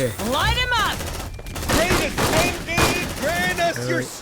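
Rapid gunfire from suppressive fire in the video game Aliens: Dark Descent crackles in dense bursts under loud game sounds and tonal effects, with a voice talking over it throughout.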